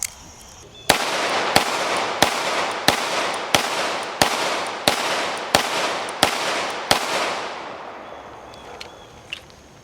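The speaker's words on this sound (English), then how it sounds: "the Taurus PT99 down at the range just shoots like a Beretta 92" Ten evenly spaced gunshots from a Taurus PT99 9mm pistol at an outdoor range, each loud, sharp crack followed by a short echo, with no talking.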